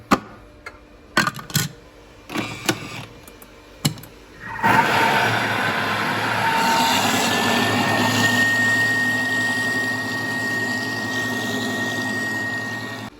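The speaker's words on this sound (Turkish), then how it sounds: "blenderdan yaklaşık 30 saniye" A few clicks and taps come first, then a blender whirs steadily, mixing a sugar-free ice cream base, a loud continuous motor drone that lasts to the end.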